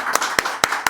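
A congregation in a prayer hall in Indore claps hands in welcome: four crisp, evenly spaced claps in quick succession, close and clear.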